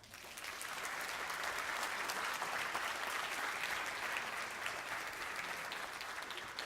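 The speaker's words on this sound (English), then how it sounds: "Give him a round of applause." Audience applause at a live speaking event, a dense steady wash of clapping that swells in quickly and holds at full strength throughout.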